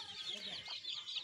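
Young native chickens, chicks between one and thirty days old kept in a small rearing pen, keep up a steady stream of high chirping and soft clucking, close and fairly quiet.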